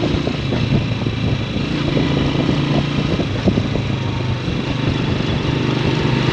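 A motorcycle engine drones steadily and fairly loud while being ridden through the Kashmir valleys, with a constant rough hum and wind noise throughout.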